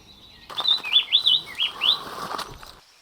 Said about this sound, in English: This small, secretive bird is one of Meghalaya's true treasures, a lifer for any birder.